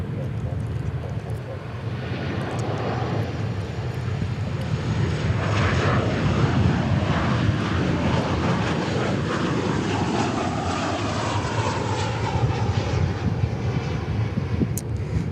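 An American Airlines heavy jet lands on runway 13 right at Dallas Fort Worth Airport, its engine roar steady and loud for the whole stretch, swelling slightly in the middle, with broadband rumble and faint voices underneath.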